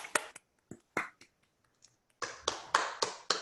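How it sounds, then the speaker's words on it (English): Scattered claps from a few unmuted participants in an online conference session, sparse single hits at first, then a denser burst of several claps near the end, close and fairly quiet. "I'll unmute everyone so we can clap"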